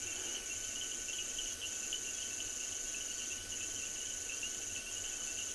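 Night chorus of crickets and frogs in the African bush, a steady high chirring drone that stays even and unbroken throughout, with no voices.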